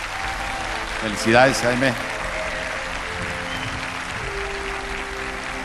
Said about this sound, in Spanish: pues un aplauso para él